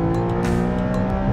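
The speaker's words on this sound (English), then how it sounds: "I'm going to try and rev the Cayman 4-litre GTS out to the red line in every gear." A Porsche Cayman GTS 4.0 revving hard toward the red line in gear, a loud, dense, steady engine howl filling the whole short stretch with no voices.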